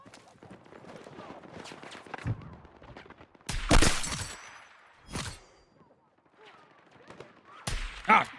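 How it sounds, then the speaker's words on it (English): Video game machine gun fire in several sharp, loud bursts spread across the stretch, with a low background of shuffling and ambient game noise between the volleys. "Hostile machine gun in sight."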